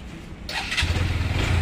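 A brand-new motorcycle engine cranks and catches after the key is switched on, then settles into a steady close idle with a rhythmic low putter.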